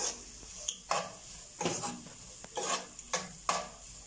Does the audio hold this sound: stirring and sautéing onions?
yes